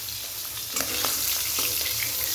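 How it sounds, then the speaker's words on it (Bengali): Fish sizzles steadily as it fries in oil in a pan, a dense continuous hiss with a few brief clinks and scrapes as the pieces are handled. "আমার এই মাছ ভাজাটা হয়ে গেছে, দাঁড়াও তুলে নিই মাছ ভাজাটা।"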